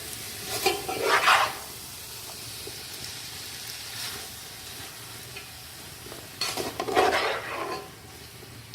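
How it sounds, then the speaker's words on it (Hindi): Mutton spring roll filling with green onion is stirred in a pan over high flame, with a continuous soft sizzle and two bursts of spatula scraping against the pan, one near the start and one near the end. "एक से 2 मिनट हम हाई फ्लेम पे इसको थोड़ा सा पकाएंगे, मिक्स करेंगे अच्छा सा।"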